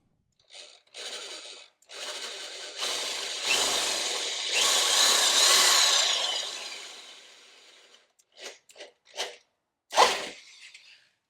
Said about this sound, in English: once it drills to that depth, the tape's going to stop it from going any further into the hole